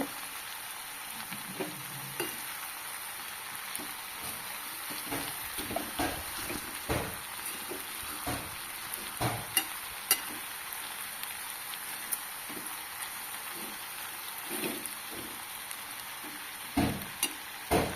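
Oil sizzles steadily in a pan while powdered spice is stirred into the frying food, with soft scraping and clinking of the spoon against the pan.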